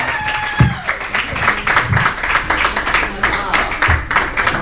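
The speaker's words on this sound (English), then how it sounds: "another round of applause for Mr. Seth Woodward" A comedy club crowd at a dive bar applauds a departing comic with dense, steady clapping and some cheering, while a host speaks over it.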